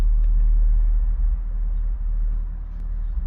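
Auxito jump starter's built-in air compressor running on a tire, a steady low droning motor hum close by, continuous and alone with no talk.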